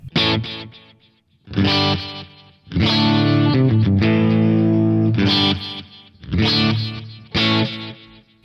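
Electric guitar played through a Line 6 DL4 delay pedal on its tape echo setting, with bass and treble set mid: bright distorted chords and notes in bursts, each trailing into echoing repeats, loud and close with no talking.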